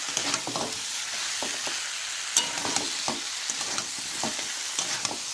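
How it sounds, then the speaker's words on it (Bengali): Ground coriander, cumin and black pepper paste fried and stirred in a pan for a cauliflower and fish curry: a steady close sizzle with repeated scraping and clinking stir strokes, no talking. "বাটা মশলা দিয়ে আবারও ভালো করে কষাবো"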